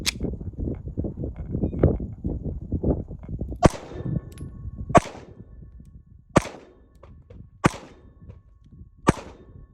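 Pistol gunshots from a compact carry handgun at test firing, five sharp single cracks spaced about a second apart at a moderate distance, after a stretch of clattering handling noise.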